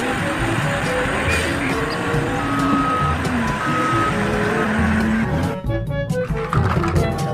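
A toy dump truck sends out regular reversing beeps over a busy background of engine rumble and other toy noises, the beeps clear and close throughout.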